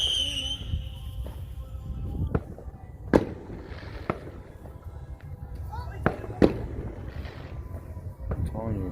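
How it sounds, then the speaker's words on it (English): Fireworks crack and boom at a distance in a repeated uneven series, while background noise and voices continue underneath. "They got the best fireworks."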